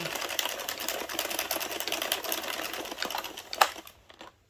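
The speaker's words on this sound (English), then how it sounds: "I'm getting the hang of rolling my little machine" An Addi Express circular knitting machine being cranked with red yarn, giving a steady rapid clatter of small plastic needles ticking close by, ending in a couple of louder clicks before it stops.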